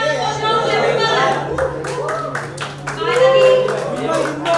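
People at a fitness product launch with a celebrity break into scattered applause, sharp individual claps popping out over lively chatter and nearby voices talking throughout.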